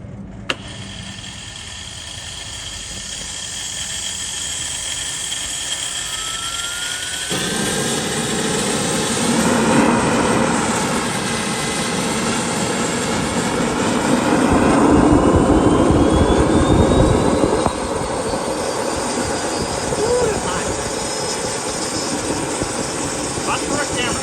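A Jakadofsky Pro Edition model jet turbine lights off and spools up, its whine rising steadily in pitch and growing louder over a roaring rush, with a person talking intermittently nearby.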